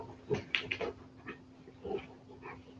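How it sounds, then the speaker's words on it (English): A playful dog whimpers and yips indoors in a few short, quiet bursts over a faint steady hum, with no talking. "So my dog wants to be a part of this live stream."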